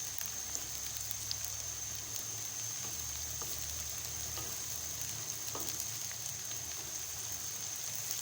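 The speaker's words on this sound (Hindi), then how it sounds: "ये प्याज फ्राई हो रहे हैं।" Sliced onions frying in oil in a home kitchen pan, a continuous soft crackling sizzle with a steady hiss, quiet and unbroken, with no talking over it.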